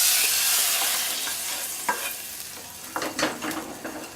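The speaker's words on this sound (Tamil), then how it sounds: "இப்போ நம்ம தாளிப்பு செஞ்சதெல்லாம் இந்த ரசத்தில் சேர்த்திடலாம்." Hot tempering tipped into a pot of South Indian paruppu rasam, giving a soft hiss with a few sharper crackling bursts and stirring noises near the end, close and alone.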